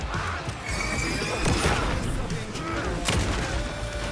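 Gunfire in the video game Alan Wake II, sharp shots scattered across a dense, noisy combat mix, with a couple of louder bursts standing out against a busy background.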